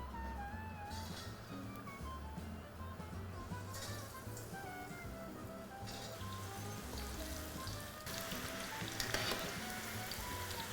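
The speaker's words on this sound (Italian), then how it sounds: "è il momento di friggere il pollo" Oil sizzles and crackles steadily as chicken fries in a pan, a dense hiss with small pops, quiet and continuous throughout.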